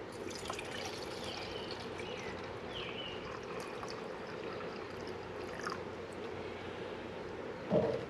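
Sixteen ounces of water pours into a bottle to mix a Tailwind Nutrition drink: a faint, steady trickle that carries on throughout, with a brief louder knock near the end.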